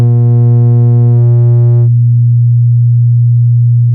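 A Hordijk modular synthesizer oscillator sounding a steady, loud sine-like tone that holds one pitch for four seconds, its upper overtones dropping away partway through to leave a purer hum.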